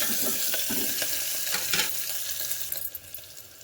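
Onion and green chilli frying in a pan, a close steady sizzle with a few stirring scrapes, softening and thinning toward the end.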